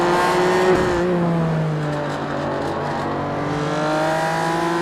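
BMW race car engines roar in an iRacing sim race, a sustained high rev with shifting pitch as cars accelerate and pass, loud and continuous with no talk.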